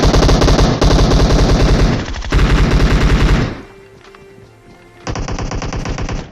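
Rapid automatic gunfire in a video game comes in loud, sustained bursts, with a brief quieter gap before another burst begins.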